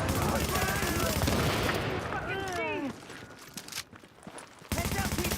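Rapid bursts of video game gunfire from half-magazine sprays in a Division-style shooter, loud and dense with broad crackle, under steady talk, then a brief lull with chirpy effects before firing resumes.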